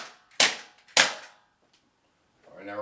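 A 6mm airsoft gun fires two sharp, evenly spaced shots close by during a cadence drill. After a short silence a voice starts speaking.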